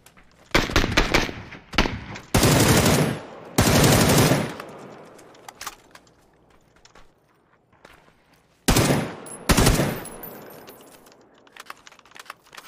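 Gunfire in a shooter video game, several loud, close bursts of rapid automatic fire separated by quiet gaps, with fainter clicking and scattered sounds between them.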